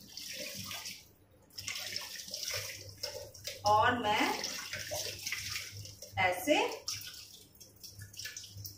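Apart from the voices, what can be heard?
paneer rinsed under running tap water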